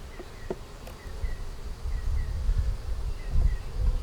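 Honey bees swarm around an open hive, giving a close, steady low buzz with occasional rustles and a few sharp taps, with no talking.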